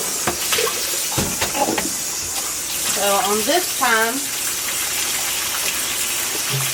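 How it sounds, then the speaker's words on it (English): Tap water gushes into a dish pan as it is rinsed out, a loud steady splashing stream with brief spoken words over it. "Now I'm going to change the water. Rinse it out real good. Just using a dish pan."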